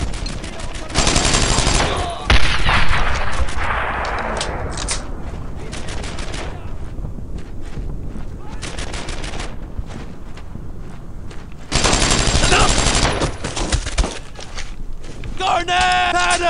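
Heavy covering gunfire in the World War II shooter Brothers in Arms: Earned in Blood: loud, sustained bursts of rifle and machine-gun fire with footsteps and shouting soldiers between volleys.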